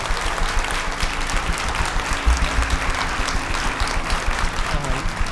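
Audience applause at a live talent show performance, a steady, dense clapping that runs throughout with a faint musical hum underneath.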